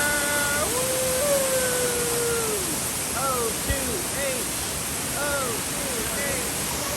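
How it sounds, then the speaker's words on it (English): Steady broadband rush of a waterfall at the San Diego Zoo, continuous and fairly loud, with whistling bird calls and voices mixed in over the water. "I love this waterfall."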